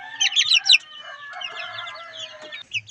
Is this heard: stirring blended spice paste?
no